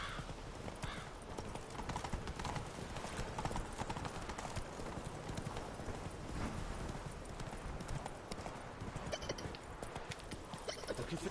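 A horse's hooves clip-clop in a steady riding rhythm in The Witcher video game, clear and continuous over ambient game sound and faint background voices.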